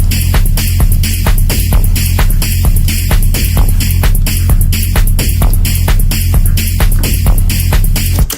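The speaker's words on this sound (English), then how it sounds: "I think I would like a bit of delay." A loud hard techno track built in Logic Pro X with a delay effect added, steady pounding kick pattern driving under dense distorted synth layers throughout, no voices.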